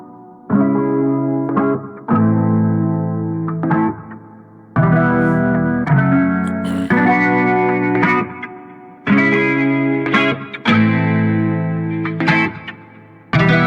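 An electric guitar plays sustained chords through reverb, with EQ automation gradually opening the tone so it washes in, loud and alone, with repeated strummed phrases and breaks.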